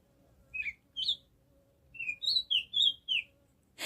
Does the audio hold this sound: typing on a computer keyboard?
no